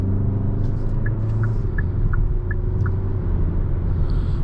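A 2021 Hyundai Sonata Limited with an 8-speed automatic accelerates to pass, giving a steady, dense low rumble of engine and road noise from inside the cabin, with no talking.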